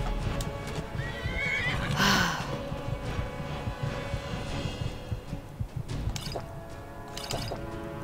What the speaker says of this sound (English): Hey, I don't like the horse,